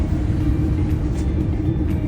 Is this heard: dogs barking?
no